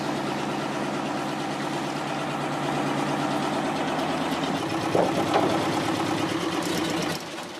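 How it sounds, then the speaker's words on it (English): Steady low rumble of an engine idling nearby, constant throughout with a few brief clicks near the end. "Can you turn the engine off, mate?"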